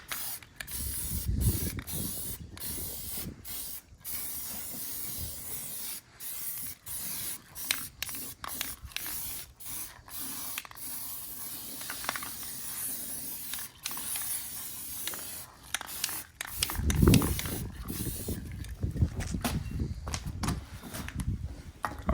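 Short hissing bursts of spray primer hit a wheel, with pauses and faint mechanical clicks between them. The bursts are close and the pattern is irregular.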